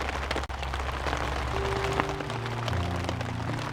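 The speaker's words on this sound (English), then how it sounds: "Still raining." Rain falls on a tarp stretched over a tent in the woods, a steady, dense patter that continues throughout at moderate level.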